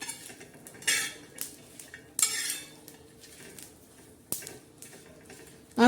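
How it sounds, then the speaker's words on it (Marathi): Green chillies dry-roasting in a pan for a dried-fish (sukat) chutney, with irregular clinks and scrapes of a utensil stirring them against the metal and a soft background hiss; no talking. "भाजून घेऊया सर्व मिरच्या."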